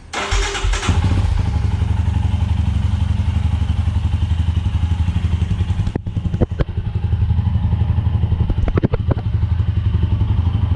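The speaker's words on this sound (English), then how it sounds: "You know what, let's just start the bike." A Royal Enfield Himalayan motorcycle with a freshly fitted K&N performance air filter starts from cold, its single-cylinder engine catching and settling into a loud, steady, thumping idle close by, with a few sharp clatters mixed in.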